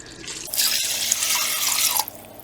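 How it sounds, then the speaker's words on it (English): Dry beans are rinsed in a strainer under running tap water for a crock pot meal. A close, steady rush of water starts after a moment, runs for about a second and a half, then stops abruptly, with no talk. "I'm going to go ahead and give these a really good rinse"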